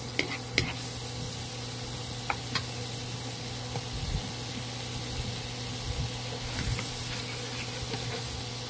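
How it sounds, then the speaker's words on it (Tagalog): Seasoning ingredients sauté in melted margarine in a pan for chicken sopas, giving a faint, steady soft sizzle with a few scattered clicks and pops. "ginigisa ko muna lahat. Yung mga ricado."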